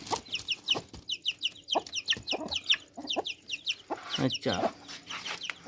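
Hen and chicks clucking and peeping close by, a dense run of high chirps mixed with lower clucks, while someone speaks briefly over them.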